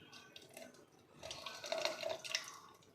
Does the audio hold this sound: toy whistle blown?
no